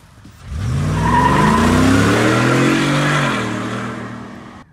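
A Ford F-150 Shelby Super Snake pickup launches hard and accelerates away, its loud engine roar rising steadily in pitch for about three seconds before easing off as the truck pulls into the distance.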